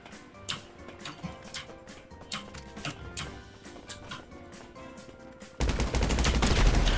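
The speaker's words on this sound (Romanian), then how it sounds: "Stai că încerc să te omor cu pistolul." Pistol shots in a shooter video game, a series of sharp separate cracks at an irregular, unhurried pace, followed by a sudden dense wash of louder noise near the end.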